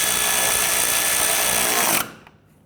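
A power tool on a 2011-2015 Kia Sorento 2.4 snugs down bolts while the AC condenser and receiver drier assembly is replaced. One loud, steady whir runs for about two seconds, then cuts off and fades.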